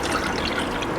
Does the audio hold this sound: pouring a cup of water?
yes